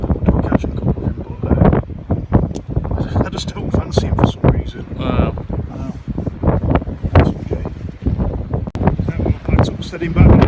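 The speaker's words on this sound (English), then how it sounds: "Wind's picked up, it's probably swirling right end of this pier on Harbour. It's just whipping round." Strong wind whips around the end of Bridlington harbour pier, buffeting the microphone with loud, continuous gusty rumble while someone talks over it.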